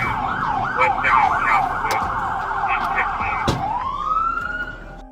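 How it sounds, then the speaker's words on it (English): A police car siren wails in rapid yelping cycles, then shifts to a slower rising wail, loud and close amid road noise during a chase. "Sirens blared, tires screeched, and Valdez refused to stop."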